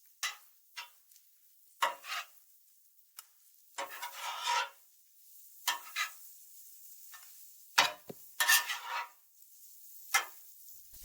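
Yakisoba noodles with shrimp, pork, green onions and okonomi sauce tossed in a pan, giving scattered short scraping and stirring bursts over a quiet background, with no one speaking.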